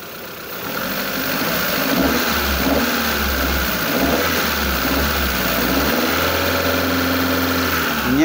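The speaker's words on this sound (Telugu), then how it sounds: "ఇంజన్ బీటింగ్ కూడా చాలా బాగుంది." An old car's engine runs steadily at idle close by, a low even hum and rumble lasting several seconds with slight swells as it keeps turning over.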